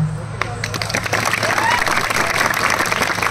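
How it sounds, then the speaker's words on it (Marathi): Audience applause at a live Marathi comedy and music show, dense clapping from a crowd under a steady musical drone, continuous and fairly loud throughout with a few sharper claps standing out. "या अभंगासाठी सर्वांनी टाळ्या वाजवा"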